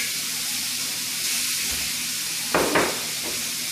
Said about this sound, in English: I've preheated my pot here. I'm going to add the bacon. The sausage.